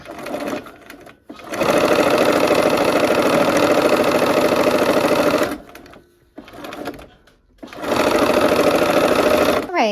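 A sewing machine stitches quilt pieces in fast, steady runs of whirring needle strokes, stopping briefly twice between bursts; loud and close with no talk.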